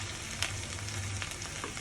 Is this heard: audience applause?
no